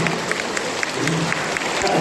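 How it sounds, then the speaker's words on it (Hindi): An audience breaks into sustained applause, a steady dense patter of many hands clapping with no pauses throughout. "एक बार जोरदार तालियां होते हैं"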